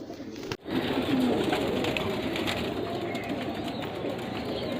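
Pigeons cooing close by, soft repeated coos over a steady background hum, after a brief sharp knock at the start.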